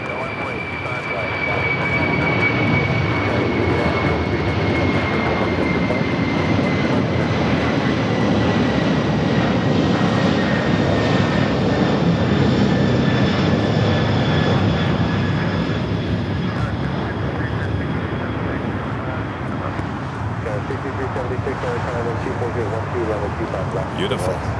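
A LATAM airliner taking off full length from runway 25 right at LAX, a loud sustained jet roar close by with a thin whining tone, while a voice talks over it.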